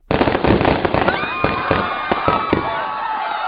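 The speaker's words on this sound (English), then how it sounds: "Just the fireworks going off early." Fireworks burst in rapid, crackling succession at a Christmas show, loud and close, followed by whistling rockets and fading pops, with a faint crowd murmur underneath.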